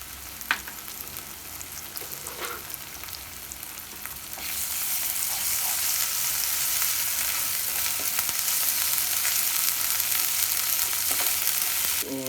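Ginger and garlic paste hits a hot pan for chicken jhal fry, starting with quiet stirring clinks before a loud, sustained sizzle takes over and holds steady to the end.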